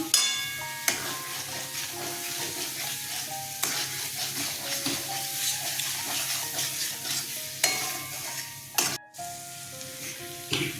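Spices and tomatoes sizzle in a pan for a thin bata fish curry, giving a steady frying crackle with repeated stirring scrapes and light clinks of a spoon against the pan, close up with no talk.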